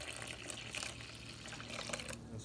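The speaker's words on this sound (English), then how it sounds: "Now we're going to add the 2 1/4 cup of water," Warm water pouring into sourdough dough in a bowl, a steady soft splashing stream, faint and continuous.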